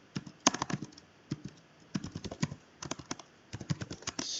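Computer keyboard keys tapped in irregular clustered bursts while commands are entered into a terminal, with close, crisp clicks separated by short pauses.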